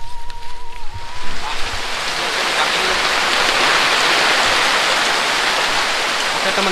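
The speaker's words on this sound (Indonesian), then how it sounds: "tadi tiba-tiba ada hujan, jadi kita langsung lari ke saung" Sudden heavy rain pours down in a forest, a dense steady hiss that swells after the first second and then holds loud and even to the end, with no voices.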